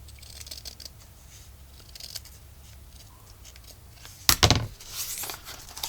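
Scissors snip through paper for a journal envelope pocket, quiet soft handling rustles first, then a short burst of close, crisp cutting strokes near the end.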